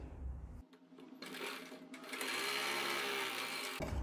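A sewing machine stitches a blouse seam in a quick, close, rattling burst that starts, pauses briefly, then runs steadily before stopping.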